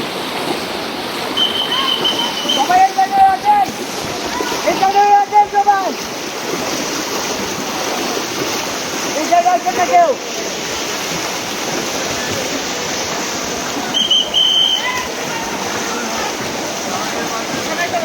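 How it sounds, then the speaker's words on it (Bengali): Floodwater current rushing across a road sets up a steady broadband roar throughout, with several short bursts of shouting voices rising over it now and then. "পানির স্রোত দেখেন, এখানে দাঁড়িয়ে থাকার মতো কোনো ব্যবস্থা নেই। পুরো রাস্তা দিয়ে পানি ঢুকতেছে।"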